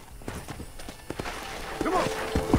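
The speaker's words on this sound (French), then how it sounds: "je vais prendre ce cheval-là, ça va peut-être aller plus vite" Horse hooves clip-clop on a road in the video game Red Dead Redemption, a quick steady beat under ongoing game ambience and faint tonal whines, moderately close, no clear talk.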